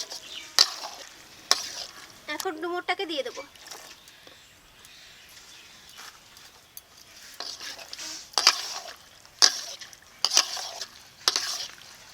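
Chicken meat being stir-fried with spice masala and slit green chillies, with scraping stirs and clinks of a utensil against the pan over a low sizzle, close by; a brief voice-like sound occurs early.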